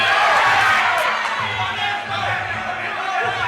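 Crowd at an amateur MMA fight cheering and shouting loudly and close, a continuous roar with whoops rising and dipping briefly, under a commentator's voice.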